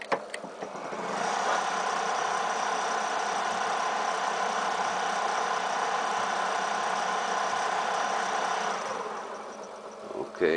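A vintage American-made coil winding machine runs steadily for about eight seconds, a smooth whirring motor hum with a faint mechanical rattle, starting and stopping with soft clicks at each end.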